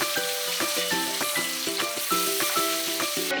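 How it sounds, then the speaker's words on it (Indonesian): Fish sizzles as it fries in hot oil for an Indonesian mangut dish, a steady close crackle with a rhythmic, tonal pattern running through it. "Nah, minyaknya sudah panas. Selanjutnya, goreng ikan kotesnya."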